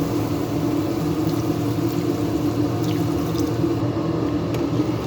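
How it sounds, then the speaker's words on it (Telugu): Boiled cowpea water poured into a simmering curry, a steady continuous liquid rush with faint drips and trickles throughout, fairly close and without talk. "ఇప్పుడు ఈ బొబ్బరి నీళ్ళు కొంచెం కూరలో వేస్తాను."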